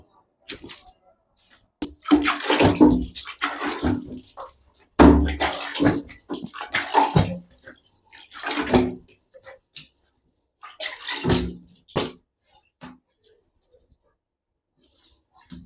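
Water splashes and rinses over a freshly exposed silkscreen in several irregular bursts with quiet pauses between them, close and fairly loud, while a person can be heard speaking.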